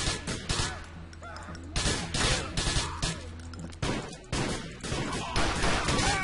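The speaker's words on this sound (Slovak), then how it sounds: "Prečo to, to mini SMG vydáva taký divný zvuk, ako keby som strieľal viac do zábradlia" Mini SMG fire in a video game, loud bursts of rapid shots in several clusters with short pauses between them, a slightly metallic ring as if the rounds strike railings, and no talk.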